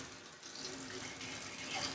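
Tap water running in a bathtub, rinsing soil off a houseplant's roots, a soft continuous stream with faint splashing at close range, no talk.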